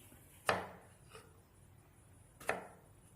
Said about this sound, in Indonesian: lalu kita mulai memotong pisangnya.